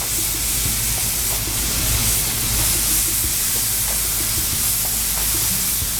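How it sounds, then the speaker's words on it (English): Rib eye steaks sear on a hot Blackstone griddle with a loud, dense, continuous hiss of sizzling fat, steady and close throughout. "Now that our Blackstone's all nice and hot, we're gonna go ahead and lay down our steaks."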